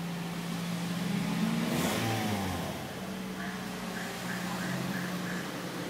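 A 2008 Toyota Yaris engine cranks and catches, settling into a smooth, quiet idle with a brief rev near the start, recorded close by at modest volume.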